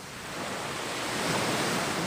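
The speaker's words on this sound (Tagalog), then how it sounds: "Sinasabayan nila yung hampas ng alon." Ocean waves break and wash up on a beach where people net small shore creatures. A loud, continuous roaring surge swells slightly and fills the whole span, with no voices.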